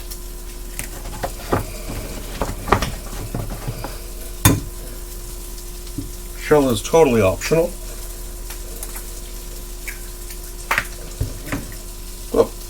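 Eggs fry in a pan for a quick breakfast, giving a steady soft sizzle with scattered sharp pops and a few louder crackles, while a person talks over it nearby.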